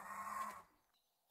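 A bird in a video game attacks the player, letting out a short clucking, fowl-like squawk that fades into silence, followed by a sudden sharp burst at the end.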